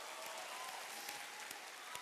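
An audience at a corporate motivational event claps together in a faint, steady spatter of applause, continuous for about two seconds with a few sharper individual claps standing out.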